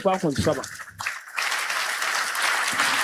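Church congregation breaking into sustained applause after a brief spoken phrase, the clapping dense and steady through the rest of the moment.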